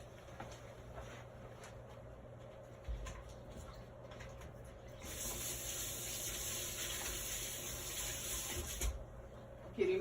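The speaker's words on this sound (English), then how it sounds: "I'm gonna put this into my water bath." A chalk transfer is lowered into a water bath: a soft, sustained watery swish rises midway and holds for a few seconds over a faint room hum, then ends with a brief knock, quiet and close with no speech.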